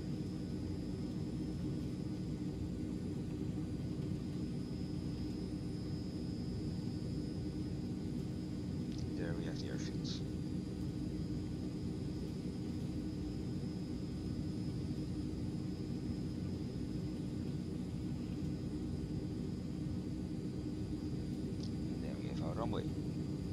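A C160 Transall military transport aircraft in a flight simulator, a constant loud engine drone throughout, with brief rattling bursts as it slows and a voice talking over it.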